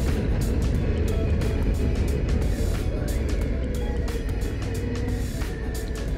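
A 2022 Harley-Davidson Pan America 1250 Special motorcycle rides along in fourth gear, its engine rumbling continuously with wind and road noise rushing over it.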